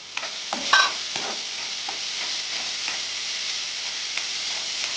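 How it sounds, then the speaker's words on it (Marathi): A large onion fries in a pan for a Goan-style chutney, giving a steady, close hiss of sizzling oil broken by a few light scraping and stirring clicks throughout. "बरो असो तळसूंक जाय. बरो भाजपाक जाय तो कांदो."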